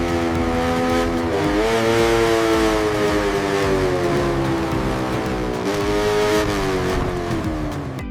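A supercharged Kawasaki Ninja H2R motorcycle engine roars loudly and continuously, its pitch wavering up and down through repeated revs, heard up close without voices.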